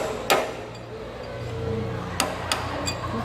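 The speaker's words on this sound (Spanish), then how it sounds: "Se pone una cuña acá y se le da un golpe con el martillo." A single sharp hammer blow strikes a wedge set in place to remove a part during a manufacturing-process demonstration, with a couple of lighter metallic taps following later, close and distinct over a low steady hum.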